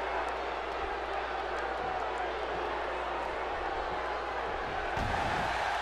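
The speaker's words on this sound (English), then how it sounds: "it sounds like the crowd is really cheering for Rollins" Steady roar of a video-game arena crowd cheering during a WWE wrestling match between Rollins and Ziggler, a dense constant wash of noise with a slight swell near the end.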